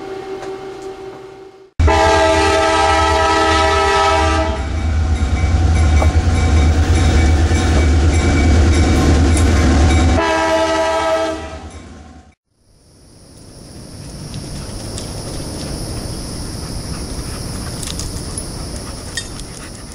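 A train horn blares in a long, loud sustained blast that shifts tone midway and cuts off abruptly, followed by a fading rumble and hiss.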